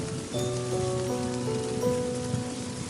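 Steady rain falls on a surface in the hills near Darjeeling with a dense, even patter, and a few faint tonal hums sit faintly beneath it.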